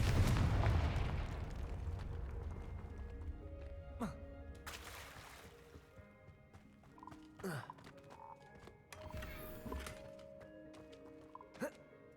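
A Confringo fire-blast spell from Hogwarts Legacy bursts in a few sharp thumps that rise over a busy game soundscape of ambient music and effects, with talk present.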